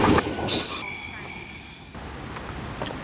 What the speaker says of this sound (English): I think there's a train coming. And the train came.